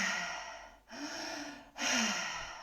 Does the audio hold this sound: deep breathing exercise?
yes